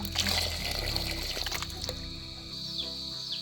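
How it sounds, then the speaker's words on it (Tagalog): Water is poured from a container onto sliced pineapple for pineapple wine, a steady splashing pour in the first two seconds that thins to a light trickle with faint background sounds. "At bago natin lulutuin ay lalagyan natin ng 1 litrong tubig para tulungan na itong lumambot."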